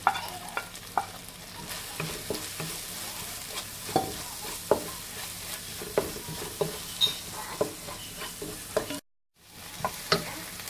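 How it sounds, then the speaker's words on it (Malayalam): A spoon stirs spices frying in a pan for butter chicken, with steady sizzling underneath and a regular rhythm of scraping taps against the pan; the sound is close and moderately quiet and cuts out briefly near the end. "നന്നായിട്ടൊന്ന് ഇളക്കി കൊടുക്കാം"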